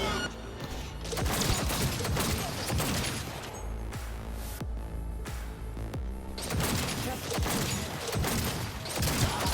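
Rapid gunfire erupts in the video game Cyberpunk 2077, with dense volleys of shots and thuds, a brief lull, then more sustained bursts, fairly loud throughout.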